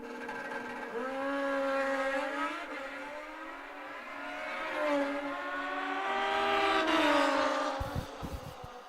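Drag racing motorcycles at a sportsman shootout accelerate down the track, a loud rising engine whine with stepped pitch climbs through gear changes, sustained for several seconds and fading toward the end.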